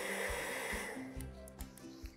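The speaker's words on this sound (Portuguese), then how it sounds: "Pego aqui o secador." A handheld hair dryer blows with a steady airy whoosh that fades partway through, followed by a few soft clicks and bumps as it cuts out, close up.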